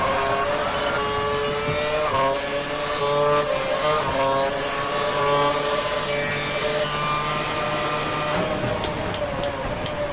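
Formula 1 cars race in an Xbox video game at the Brazil circuit, with a Ferrari crashing into the player's car; high engine whine shifts pitch continuously and loudly, with a brief knock near the end.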